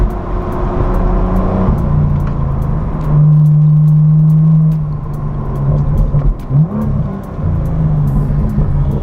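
A BMW M2 (F87) engine rumbles and whirs while driven fast, with a low steady drone that rises in pitch as it revs, then settles, loud and close throughout.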